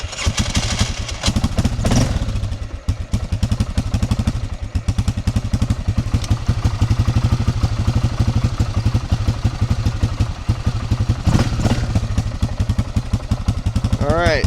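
An old, roughly running 4x4 ATV engine is held at quarter throttle, a loud, close, rapid putter with a slightly uneven clatter that lasts throughout, while a person talks over it.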